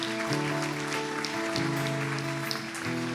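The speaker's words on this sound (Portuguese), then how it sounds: "Você pode dar um aplauso bem forte?" A church congregation applauds with a steady wash of clapping, heard beneath sustained organ or keyboard chords that carry on throughout.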